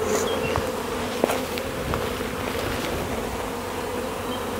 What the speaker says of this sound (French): on retourne dans le paquet d'abeilles